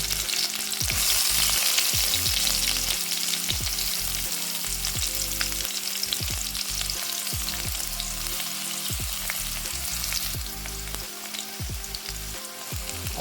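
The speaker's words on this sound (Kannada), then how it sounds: "ಈರುಳ್ಳಿ ಹಾಕ್ತೇನೆ ಡೈರೆಕ್ಟಾಗಿ" Onions sizzle and fry steadily in coconut oil in a pan for a bottle gourd curry, a dense continuous crackle with occasional stirring scrapes, loud and close, with no talk.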